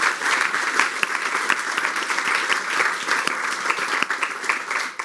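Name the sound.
audience applause for the speakers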